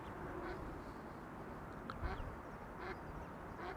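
Ducks quack in short bursts near ducklings at Schiphol Airport, set against a steady bed of airport ambience; the calls are moderately distant and intermittent.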